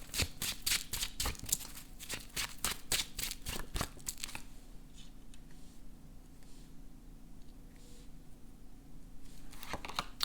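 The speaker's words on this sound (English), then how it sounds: "give it a good shuffle" Tarot cards being shuffled up close: a quick run of crisp, papery riffling bursts for about four seconds, followed by quiet with a few faint card handling sounds.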